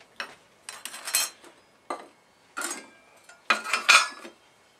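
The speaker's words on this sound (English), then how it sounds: "It came out of this this broken aluminum coffee maker" Light aluminum camp cookware, including parts of a broken coffee maker, clinking and clattering in several short bursts, pieces knocking together up close with brief pauses between.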